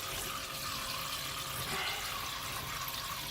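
A Companion Aquacube Logic water heater's pump runs while heating dishwater, giving a steady watery rushing hiss with an even, unchanging level throughout and no voices.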